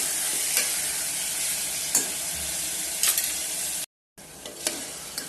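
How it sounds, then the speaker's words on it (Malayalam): Chopped tomatoes being stirred into ginger, garlic, onion and green chilli frying in a pan, with a steady soft sizzle and occasional scraping knocks of the spoon, close and quiet, with a brief dropout near the end. "ഈ സമയത്ത് തക്കാളി ഇട്ട് കൊടുക്കാം. വീണ്ടും ഇളക്കി യോജിപ്പിക്കുക."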